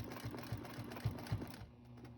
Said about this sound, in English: I always take an extra stitch there just to make sure I've got a nice sharp point